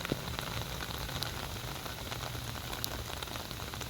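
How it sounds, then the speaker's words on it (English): Steady rain patters on surfaces nearby, with occasional louder drips standing out against the constant wash of falling water. "As you can tell, it's raining."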